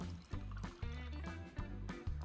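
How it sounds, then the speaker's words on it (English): Syrup and club soda poured over ice for a non-alcoholic cocktail, a steady liquid fill with soft trickling and fizz, close and alone with no talking. "We're gonna do 2 ounces of our quartz syrup and about 4 ounces of club soda. And then we pour."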